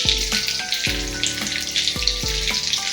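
Stuffed pieces filled with soybean and potato fry loudly in hot oil after being turned. A dense, close crackling hiss is broken by several dull knocks and ringing scrapes from the utensil.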